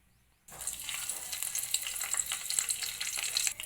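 Stone flower spice hits hot oil for a chicken curry and breaks into a loud, crackling sizzle that starts suddenly after a brief silence, then keeps hissing and popping steadily close by.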